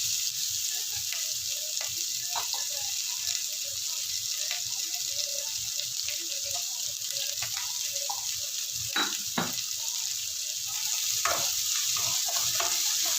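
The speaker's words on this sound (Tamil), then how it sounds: "அப்போதான் கொஞ்சம் சட்டுன்னு வெங்காயம் வதங்கும்." Onions sautéing in a pan with salt added, a steady, close sizzle running throughout with scattered stirring clicks and scrapes, no voices.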